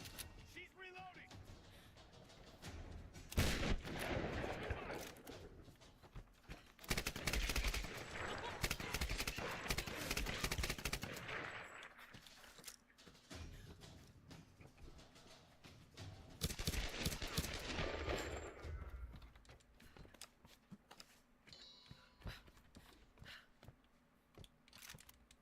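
Gunfire from Tomb Raider Definitive Edition crackles in long, dense bursts of rapid shots, rising and falling in several waves, with a player talking over the action at times.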